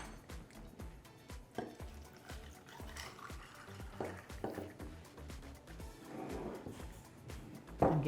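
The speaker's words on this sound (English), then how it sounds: "And give it a stir. Give it a stir." A Garibaldi cocktail being stirred in a glass with ice, giving a run of light clinks and knocks in a fairly steady rhythm that is close and soft, with no talk over it.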